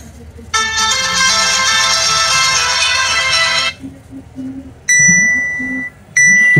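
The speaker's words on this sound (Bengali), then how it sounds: "ফোনটির যে রিংটোনের সাউন্ড আমি একটু শুনবো, চলুন দেখি যে ফোনটির রিংটোনের সাউন্ড কেমন ছিল" Ringtone from an Enix D150 keypad mobile phone: a loud, steady multi-tone melody plays for about three seconds, followed by short bright beeping tones with brief gaps, all close and clear.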